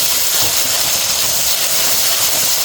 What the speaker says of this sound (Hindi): अब मसाले को अच्छी तरह भूनेंगे।